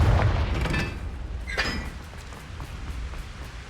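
Confringo blasting spell explosion in a Harry Potter video game, a heavy boom at the start fading into a rumbling tail, with a bright crack partway through.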